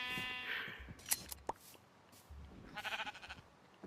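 Minecraft sheep bleat in a few short, wavering calls, fairly faint against the game's background, with no talk over them.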